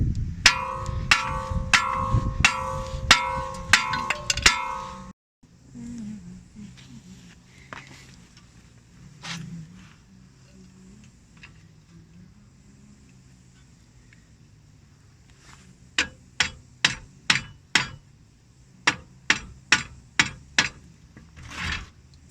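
Sharp metal-on-metal hammer blows knock a coil spring strut free on a 2009 VW Golf S, coming in quick bursts of close, loud strikes with quieter shuffling and scattered knocks between them.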